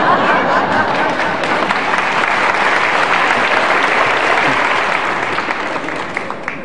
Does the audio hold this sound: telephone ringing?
no